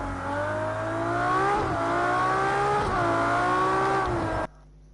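A loud video game race car engine drones and revs with rising and falling pitch through several gear changes in the pit lane, then cuts off abruptly near the end.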